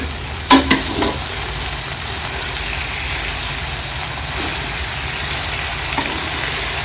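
Green chillies for pickle, salted with regular and black salt, cook uncovered in a pan over heat with a steady, moderate sizzle; a couple of sharp utensil clinks ring out near the start.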